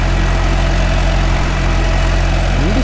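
A Mahindra 575 DI tractor engine idles close by, a loud, steady low-pitched rumble and chug throughout, with no talking.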